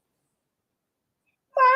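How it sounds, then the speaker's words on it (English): A cat gives a single clear, close meow right at the end, after a long stretch of silence. "There was a cat."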